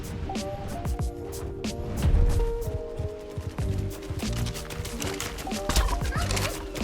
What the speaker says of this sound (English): Just make a bunch of shadow turkeys.